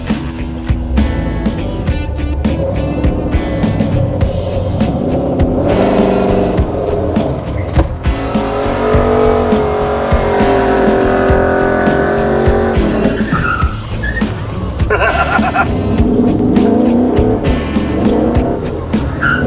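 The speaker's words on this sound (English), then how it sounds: "Should I do a little burnout out of here?" A car tears off in a loud burnout, its engine roaring and rear tyres squealing and skidding up close, the screech holding steady for most of the stretch before easing and flaring again.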